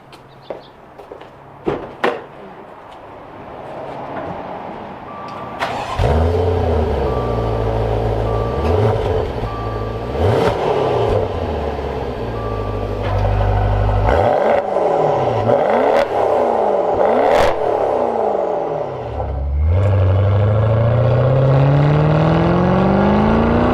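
A Maserati Quattroporte GTS engine revs again and again, its exhaust valve switched between open and closed. Each sharp blip climbs and falls back, over a steady idle, and the sound stays loud and close throughout.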